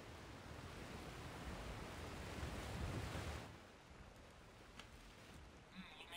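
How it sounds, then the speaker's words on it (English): Cinematic water effects from the Genshin Impact game roar like heavy surf in a dense, broad rush that fades into a softer, airy wash with a few faint ticks. "Just water effects go brrr"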